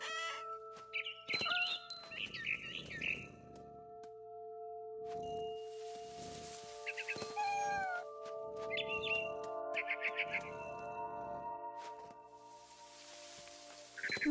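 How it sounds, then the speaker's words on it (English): A barn swallow chirps outside a window in What Remains of Edith Finch, with bursts of bright, rapid twittering calls repeating at intervals, alternating with soft rustling noises in an otherwise quiet setting. "Then I heard chirping outside my window. It was a barn swallow going back to her nest."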